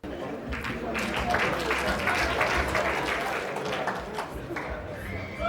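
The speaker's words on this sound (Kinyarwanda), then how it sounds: "amashyi menshi cyane kuri Franco" A live audience applauds Franco at a comedy show, dense sustained clapping with crowd murmur and voices mixed in, loud throughout and fading slightly near the end.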